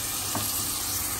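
Meat sizzles steadily in a hot frying pan as filling is cooked for Filipino lumpiang shanghai, a close, even crackle with no talking.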